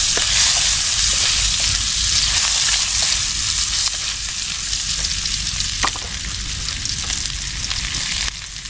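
Onions hitting a hot pan in a home kitchen set off a loud, continuous sizzle that holds strong and fairly even, with faint stirring and sloshing underneath.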